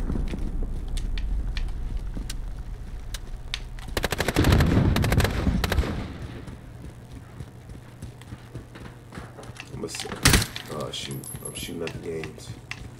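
Automatic weapon gunfire in a Modern Warfare multiplayer match, with rapid bursts and single cracks that keep coming, loud and close, mixed with game effects and occasional talk.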